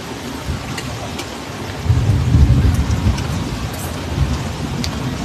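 Steady heavy rain hisses over the whole stretch while a deep roll of thunder swells midway and rumbles on, loud and close with no talking.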